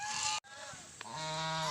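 Geese kept on a rural farm honk loudly and repeatedly, a close, harmonic squawking that runs almost without a break apart from one short pause, with no talking over it.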